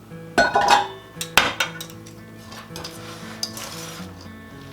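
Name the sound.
stirring cheese into hash brown casserole mixture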